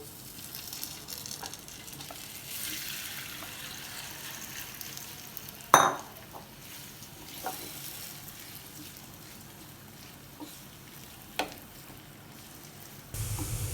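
Marinated tofu and chaap sauté in a spoonful of oil in a pan, giving a steady low sizzle with occasional sharp clacks of stirring, close by and moderately loud throughout.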